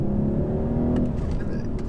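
2021 BMW 420i coupe with a 2-litre engine in sport mode, a steady in-car engine drone rising slightly as the throttle opens, close and continuous with no talk over it.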